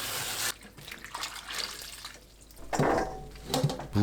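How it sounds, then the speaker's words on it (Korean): Dried radish strips being rinsed in clean water, close sloshing and swishing with a running-water rush, rising and falling in short waves. "씻은 무말랭이를 깨끗한 물에 2번 더 헹궈 맑은 물이 나오게 씻어냅니다."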